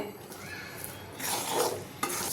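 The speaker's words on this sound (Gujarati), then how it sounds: "ગેસની ફ્લેમ બંધ કરીને આપણે આવી રીતે બે મિનિટ સુધી હલાવી લેવાનું છે" A peanut sweet mixture being stirred in a kadai with the gas flame off, soft scraping and rasping strokes of a spoon against the pan, faint and close, growing a little louder midway.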